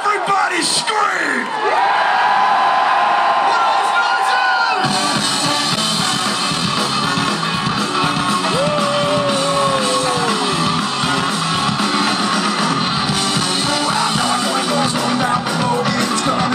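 A crowd at a concert in Boston screams, whoops and cheers loudly and continuously for many seconds, with a few individual yells rising above the roar.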